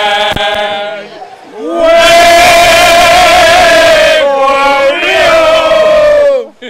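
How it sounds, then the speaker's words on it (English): A crowd at the Samui Regatta lets out a loud, sustained cheer for the Siren sailing team. Voices whoop and shout together in two long bursts with a short dip between them, after a brief lead-in. "can we get a cheer from the siren team"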